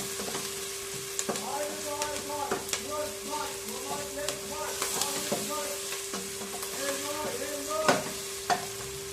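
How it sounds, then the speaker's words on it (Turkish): Spinach roots sautéing in a pan produce a continuous sizzle and crackle, with frequent spatula scrapes and clinks against the pan, and a faint background hum. "Şöyle kavruldu biraz."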